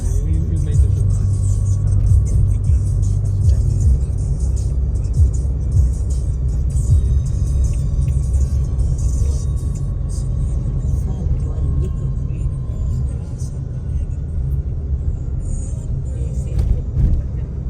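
Dense road traffic rumbling steadily and loudly close by, with engines droning and cars passing in a continuous wash of noise, no clear gaps between vehicles.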